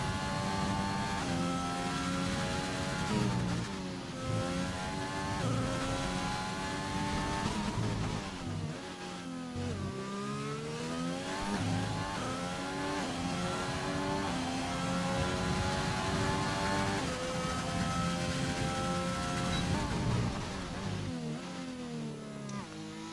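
Racing-game race cars rev and accelerate continuously through an oval-style race, with several engine notes sweeping up and down in pitch as they power out of a corner, loud and close with no speech.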